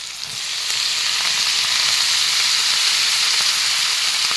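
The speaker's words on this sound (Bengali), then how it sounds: "তেলতে অলপ ভাজি দিলোঁ তাৰপিছত এয়া দি দিম মই শাকখিনি" Leafy greens hitting hot oil in a pan, a loud, dense, continuous sizzle that swells within the first second and holds steady, with no talking.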